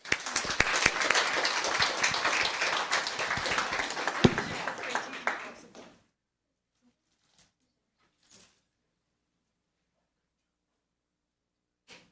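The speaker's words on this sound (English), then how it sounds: "Give him a round of applause." A town council meeting audience gives a round of applause, dense steady clapping for about six seconds that stops abruptly, followed by quiet with a couple of faint knocks.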